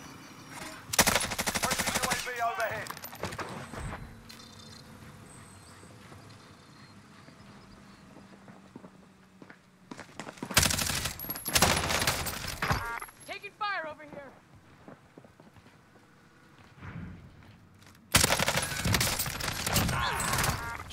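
An LMG fires in Call of Duty Cold War Warzone in loud sustained bursts, three main volleys with engine rumble and effects between them, under casual talk from players.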